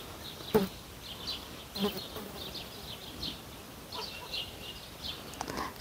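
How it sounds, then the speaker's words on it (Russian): Flies buzz outdoors in intermittent bursts at moderate distance, with occasional faint knocks and other insect-like hums scattered through the background. "Сегодня мухи злые, наверное, потому что мы их поотравляли."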